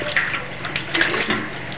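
Maple syrup brine pours off homemade bacon into a container, a close, continuous splashing trickle that swells briefly a few times, with no talk.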